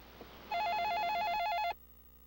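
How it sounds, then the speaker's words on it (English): A cell phone rings once: a loud warbling electronic trill lasts about a second, then stops abruptly, with no talking. "when a cell phone rang"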